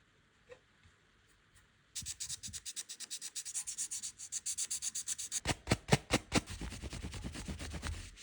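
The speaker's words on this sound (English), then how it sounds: "I just apply some CA glue, some ebony dust to fill it in, and then sand everything down." Sanding CA glue and ebony dust flush on a guitar fretboard makes close, rhythmic rasping strokes. They start after a quiet moment and speed up toward the end, dry and fairly soft, with no talking.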